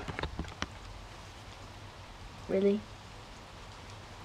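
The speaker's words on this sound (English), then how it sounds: "And it's raining again." A soft, steady patter of rain fills the background, with a few louder drips early on and a brief spoken word partway through.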